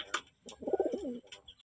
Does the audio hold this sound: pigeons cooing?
yes